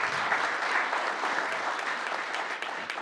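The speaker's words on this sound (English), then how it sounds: "round of applause would be good, yep." Attendees at a city council meeting give a steady round of moderate applause honoring a school sports team, the clapping continuous and somewhat distant throughout.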